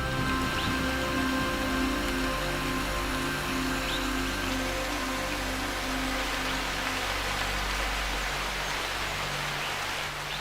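Heavy monsoon rain pours steadily over an Indian rainforest, a dense continuous hiss at constant loudness, with a low hum faintly beneath it.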